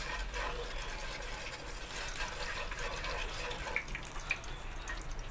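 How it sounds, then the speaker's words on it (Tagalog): Water poured into a pan of dissolved pork cubes while making gravy, giving a steady, close splashing and trickling wash with a few brief drips and no talking. "Mag-add na tayo ng 2 cups of water."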